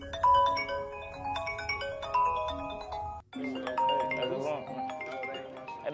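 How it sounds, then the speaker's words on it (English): A chiming phone ringtone melody rings through a rap track, its repeated bright tones playing under rapped vocals and a beat, with a brief break midway. "Hey, that's your phone?"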